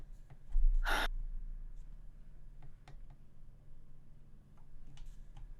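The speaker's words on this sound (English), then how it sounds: "Sound, a person waking up suddenly, sitting up," A person jolts awake and sits up with one sharp, close gasp, followed by quiet, faint breathing in a still room, with no speech.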